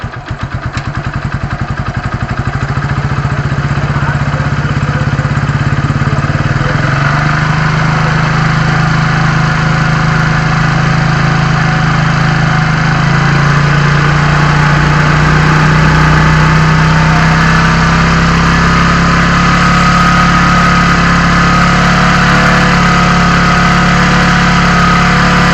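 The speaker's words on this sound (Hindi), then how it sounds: "पहले इंजन की आरपीएम को बढ़ाता हूँ।" A motorcycle engine runs loud and close as its RPM is raised, the idle climbing into a steadier, higher drone that holds for a long stretch with slight wavering, with no voices.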